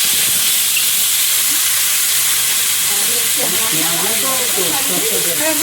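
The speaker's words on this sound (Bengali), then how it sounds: "কপিটা ভাজা চাপিয়ে দিলাম" Cauliflower fries loudly in a pan, making a dense, close hiss and sizzle that fills the whole stretch. A faint voice-like murmur rises underneath near the end.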